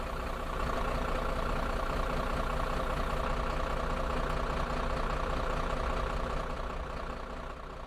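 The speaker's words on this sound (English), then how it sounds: "Bloody hell, that lorry is loud." A heavy lorry engine idles steadily at close range in a bus driving simulator game, a constant low rumble with no voices over it.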